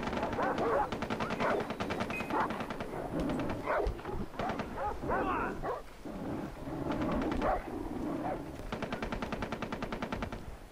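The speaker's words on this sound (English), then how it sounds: "You can hear gunfire in the background. Dogs barking." Gunfire and dogs barking in the Far Cry 3 game map editor: rapid machine-gun bursts rattle repeatedly, with barking dogs mixed between and under the shots.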